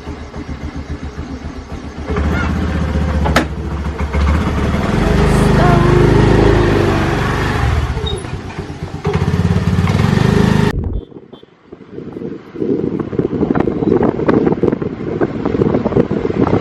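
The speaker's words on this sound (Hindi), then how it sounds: "तो हम लोग जा रहे हैं स्कूटर में, बाइक में नहीं।" A scooter ride on an Indian road, with a loud, steady engine drone mixed with heavy wind buffeting the microphone, briefly cutting out before resuming; a voice talks faintly underneath.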